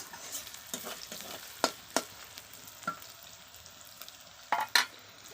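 Meat cooks in a pot over a wood fire with ginger paste and is stirred by hand. Soft sizzling runs under a series of sharp scraping strokes and clinks, a few seconds apart, heard close up with no talk.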